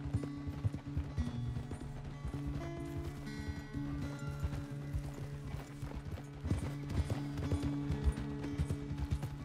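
Horse hooves clip-clop in a steady walking rhythm in the video game Red Dead Redemption 2, close and clear, over a low hum with occasional creaks and tonal sounds, no voices.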